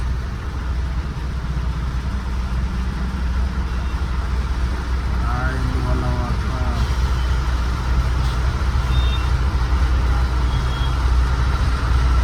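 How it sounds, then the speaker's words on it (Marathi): Heavy road traffic of trucks and cars stuck in a jam near Chakan rumbles steadily with idling engines, while a faint beep sounds now and then over the constant drone. "लय ट्रॅफिक हो, लय लय बेकार ट्रॅफिक"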